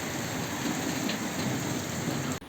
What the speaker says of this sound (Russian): Сегодняшний день с 38-градусной жарой заканчивается вот таким сильнейшим ливнем. С молнией, с грозами.